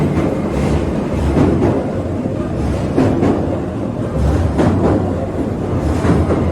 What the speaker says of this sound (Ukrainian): їде електричка над нами.